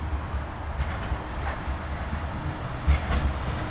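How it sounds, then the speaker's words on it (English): A Blackpool tram bound for Fleetwood rumbles along its rails at a moderate distance, a steady low roll with faint wheel clatter and no voices. "There's a tram there to Fleetwood."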